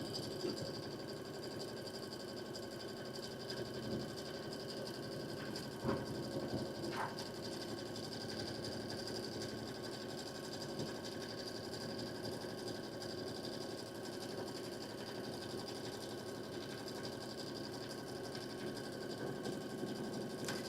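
An embroidery machine stitches out a stippling design, a steady, fast mechanical whir and needle chatter that runs evenly and close for about twenty seconds with no talking.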